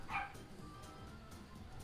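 A female dog gives a single short bark, somewhat distant and muffled, followed by low background noise.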